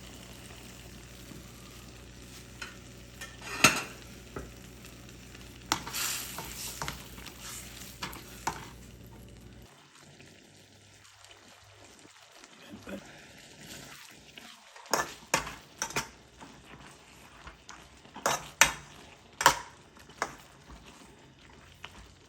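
Pepper steak sauce thickened with a cornflour slurry is stirred in a frying pan, giving soft scraping strokes and light sizzling, with sharper utensil clinks against the pan in bursts toward the end.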